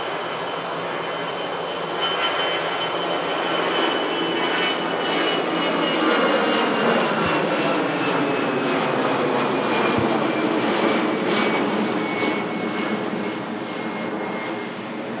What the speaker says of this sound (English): Star Alliance Brussels aircraft departing out to Brussels now.